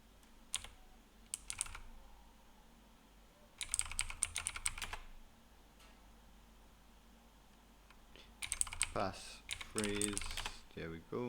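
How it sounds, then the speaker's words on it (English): Bursts of rapid clicking keystrokes on a computer keyboard while typing a password, separated by pauses, close and fairly quiet, with a faint voice in between. "I made a little mistake with my typing my password."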